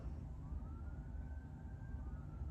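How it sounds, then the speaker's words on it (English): A distant ambulance siren rises and falls faintly beneath steady low background rumble, thin and far away throughout. "We might have another ambulance coming."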